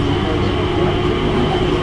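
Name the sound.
train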